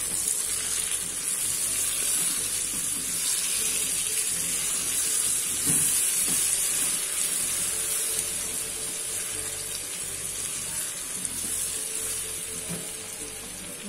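Garlic cloves added to seared pork leg in a pressure cooker give a steady, continuous sizzle and frying hiss, close and moderately loud, with light stirring and no talk.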